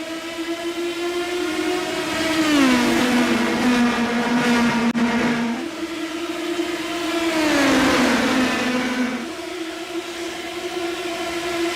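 Race cars in the iRacing game roar past at Iowa Speedway in the Indy Pro 2000 series. The loud engine whine drops in pitch as each car sweeps by, with two clear passes, and there is no talk.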